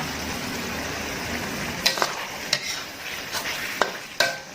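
Pork belly is stir-fried in a pan for an Isan-style dish, with a steady hiss of frying fat. Close, repeated scrapes and taps of a utensil against the pan mark the stirring.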